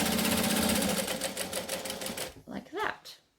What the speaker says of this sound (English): we're going to stitch on the lining side